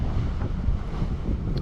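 Strong storm wind at Caussols roars steadily across the microphone, a loud continuous buffeting rush with gusty swells and no voices.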